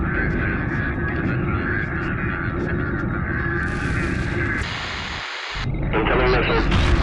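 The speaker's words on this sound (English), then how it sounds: "Incoming missiles. Evasive maneuvers. We're hit." Missile impacts striking a spaceship in Homeworld, a loud rumbling barrage of blasts with a brief cutout and renewed roar, under voices.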